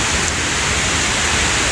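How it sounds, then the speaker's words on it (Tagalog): Heavy tropical rain pours outdoors in Singapore, a dense, steady hiss close by with no voices over it. "lakas ng ulan"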